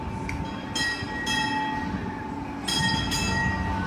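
Passenger train at a Six Flags Fiesta Texas amusement park approaching, a steady rumble with a sustained horn-like tone and rising rail noise, fairly close and without talk.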